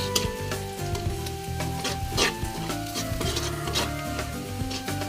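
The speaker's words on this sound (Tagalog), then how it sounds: "ginisa na bawang, sibuyas at luya" Garlic, onion and ginger sauté in a hot pan, giving a steady close sizzle broken by scraping stirs and light clinks of the utensil against the pan, with no talking.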